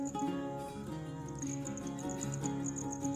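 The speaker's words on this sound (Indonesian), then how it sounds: "Ini jangkrik penghuni kolong." Small crickets living in a hole in the ground chirp together in a dense, continuous chorus. A high, pulsing trill rides over a layered, buzzing background with no pauses.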